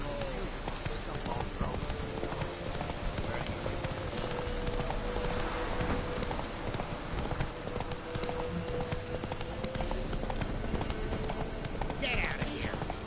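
A horse galloping in The Witcher 3 video game, with steady rapid hoofbeats running continuously under game music and ambience, and a voice speaking over it.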